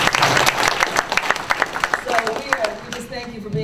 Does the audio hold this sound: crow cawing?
no